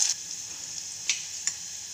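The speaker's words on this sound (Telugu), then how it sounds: "ఆవాలు చిక్కినాక ఉద్దిపప్పు, వేయించనిపప్పు వేసుకొని కాస్తంత జీలకర్ర వేసుకొని అందులోకి క్యాప్సికమ్ వేసుకోవాలి. క్యాప్సికమ్ వేసుకొని బాగా వేగాలి." Capsicum frying in hot oil with mustard seeds, urad dal, chana dal and cumin, a soft steady sizzle broken by two or three sharp crackles, quiet and close.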